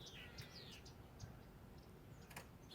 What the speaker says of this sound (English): a lot of bird action around here in the last couple of weeks